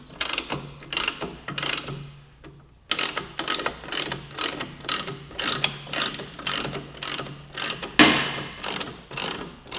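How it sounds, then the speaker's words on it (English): A big 1/2-inch ratchet with a 22 mm socket clicks rapidly and evenly, close and crisp, as it breaks loose the nylock rear axle nut on a 2015–2017 Yamaha YZF-R3, with one brief pause early on. "I've got a 22 millimeter socket on a big 1/2-inch ratchet"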